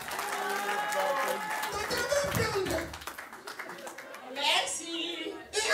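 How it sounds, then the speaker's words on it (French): An audience claps at an anniversary celebration, with scattered hand claps mixed under talking and children's voices. "Merci pour les applaudissements."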